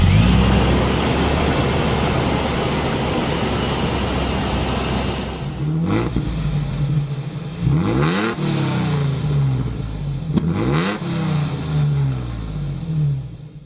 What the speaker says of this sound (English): The kit even includes a turbo-style blow-off valve, so it will sound like one too.